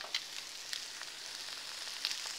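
Eggs topped with slices of Scarberg cheese fry in a pan, giving a constant soft sizzle with small crackles and pops scattered through it, close and alone.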